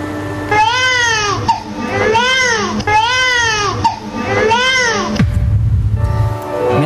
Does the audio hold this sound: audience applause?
no